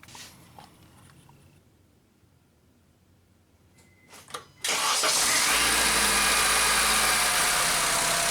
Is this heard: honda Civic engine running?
yes